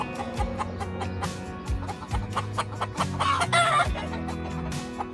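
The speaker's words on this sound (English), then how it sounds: "Man, this chicken won't shut up." A chicken roosting in a tree at night on a farm clucks repeatedly at close range in short, rapid bursts, loud and insistent, with a few sharper squawks mixed in.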